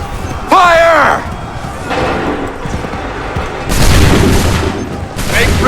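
A musket volley goes off in Assassin's Creed 3, a loud booming crack of massed muskets followed by a second heavy burst later, with shouted commands and battle noise around it.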